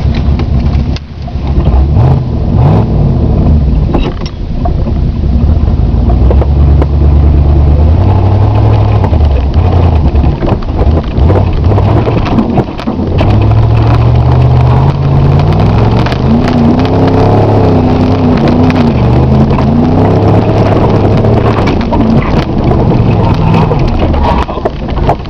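A Plymouth with a 318 V8 idles and revs while offroading, engine pitch climbing and falling through repeated throttle blips, loud and close with crackling, rattling noise over the rumble and no talking.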